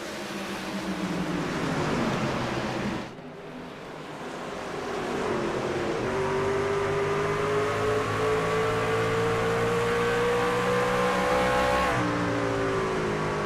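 Race trucks roar past at Richmond in a Truck Series race, their engines droning loud and continuous. The sound dips briefly, then rises again as the trucks run close together off the turn.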